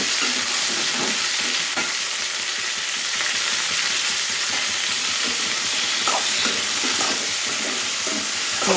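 Chopped onions sauté in a pan with a loud, continuous sizzle and hiss close to the listener, with scattered scraping stirs but no voices.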